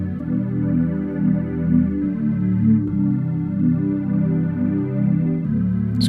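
Lush synth pad from the Alchemy instrument with its delay time being adjusted, chords held and shifting with echoing repeats, a steady full wash of sound with no talking.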